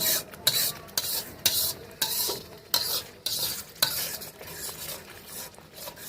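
Yogurt fish curry (doi katla) being stirred on a low flame, with a spoon scraping rhythmically against the pan over a gentle sizzle, close and steady, no talking.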